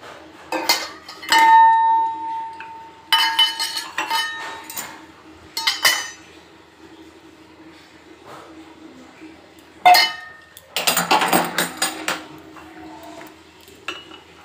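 Metal utensils clink and clatter against pots and cups while freshly brewed tea is strained, in irregular bursts of sharp ringing taps separated by quieter pauses, close by.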